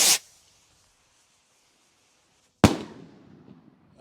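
Devil Rocket consumer firework: a short hissing launch, a silent gap, then one sharp loud bang with a trailing crackle and fading rumble.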